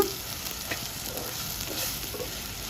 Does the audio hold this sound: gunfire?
no